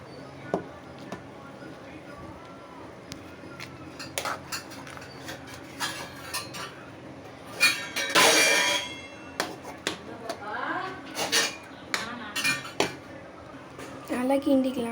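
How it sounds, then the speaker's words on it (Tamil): A utensil scrapes and clinks against a pot while paruppu sadam rice is stirred after transferring, a series of irregular metallic taps and scrapes close by, with a voice speaking over them. "இதுக்கு ட்ரான்ஸ்ஃபர் ஆனதுக்கப்புறம் நம்ம இதை நல்லா போட்டு கிண்டிக்கலாம்."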